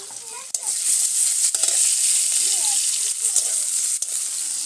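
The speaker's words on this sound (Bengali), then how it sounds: "এই দেখো পেঁয়াজ ভাজছি ডিমের তরকারি" Onions sizzling in a pan in a home kitchen for egg curry, a steady bright hiss with occasional stirring clinks and a voice talking faintly over it.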